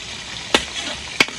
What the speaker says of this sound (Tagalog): So, ilagay na natin ang bawang sibuyas.